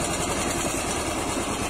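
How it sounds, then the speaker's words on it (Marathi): A tractor engine idles close by at a village cricket ground being dug for pitches, a steady unbroken low throb and rattle with no voices. "इकडे बघा, ट्रॅक्टर आणलेला आहे."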